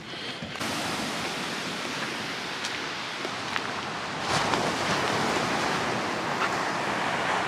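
Calm ocean surf on a Florida beach at high tide's approach, a soft continuous wash of broadband noise that swells slightly louder midway, with no talking.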